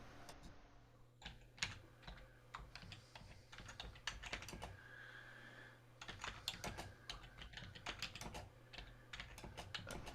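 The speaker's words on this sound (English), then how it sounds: "Is that Alan typing an essay?" Rapid, uneven keystrokes on a computer keyboard as an essay is typed, clicking steadily for about ten seconds at close range with a low background hum and no talk.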